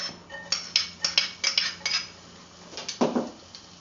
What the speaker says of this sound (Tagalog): Give it a stir until it turns golden brown.